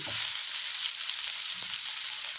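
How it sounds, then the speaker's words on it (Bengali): Chicken curry being stirred and cooked down in a pan, giving a steady soft hiss of simmering liquid with a couple of faint low scrapes, close and continuous with no talk. "আর এবার এটা মিশিয়ে ঝোলটা শুকিয়ে নিচ্ছি"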